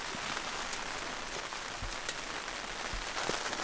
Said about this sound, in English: Cozy with the sound of rain on the tent when you're gonna to sleep